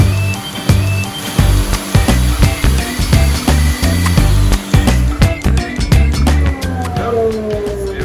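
A table saw crosscuts wood on a homemade crosscut sled: a loud, steady motor roar with dense rattling cutting noise throughout, and a whining tone sliding down near the end as the blade spins down. No one speaks.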